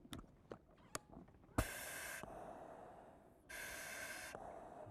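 Firefighter breathing through an air-bottle mask, giving two loud, hissing breaths of about half a second each, a Darth Vader-like rasp, after a few soft clicks and taps.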